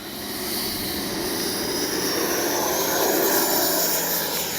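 FMS Avanti S 90mm electric ducted-fan RC jet takes off, a loud, continuous roaring whoosh that swells slightly and holds steady, with broad hiss and no talk.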